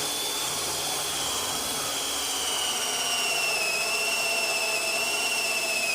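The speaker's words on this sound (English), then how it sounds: "So I'm letting the weight of the drill do the work." A drill fitted with a hole saw cutting into a plastic rain barrel, a continuous steady whining grind with a high tonal edge that holds throughout.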